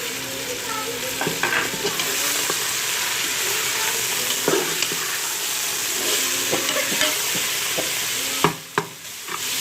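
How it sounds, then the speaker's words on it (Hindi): Beef mince stir-frying with browned onions for piyaz qeema: a loud, continuous sizzle in the pan, punctuated by scraping, clattering stirs of a spoon, with a few sharper knocks near the end. "अब हम इसमें कीमा शामिल कर देंगे और इसे अच्छी तरह भून लेंगे"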